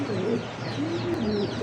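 A male Pomeranian Pouter pigeon coos in a low, rolling, repeated call close by, several throaty phrases in quick succession with a steady hum underneath.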